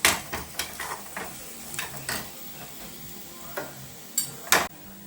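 Onions frying in oil in a pan for pumpkin curry, a soft steady sizzle broken by a few sharp stirring scrapes and clicks, close and fairly quiet, no talking.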